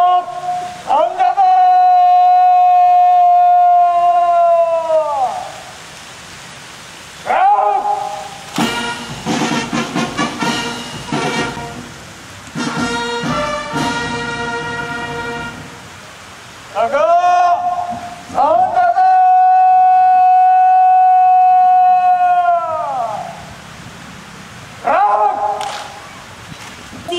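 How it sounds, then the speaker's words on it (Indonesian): An electronic siren wails through long rising and falling blasts at an Indonesian independence day ceremony, loud and near, interrupted by bursts of crowd or marching noise between the tones. "Kemerdekaan Republik Indonesia ditandai penekanan tombol sirine oleh Inspektur Upacara."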